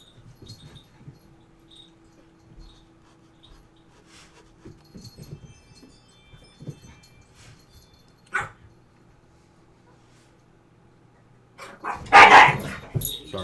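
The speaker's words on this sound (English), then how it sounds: "Sorry, those are my dogs." Several dogs bark in a loud, brief burst near the end, after a long stretch of quiet room sound with faint movement and a short earlier yelp.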